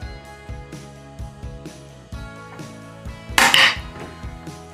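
A knife slices the tip off a squash, heard as one short, crunchy cut partway through, over steady rhythmic background music.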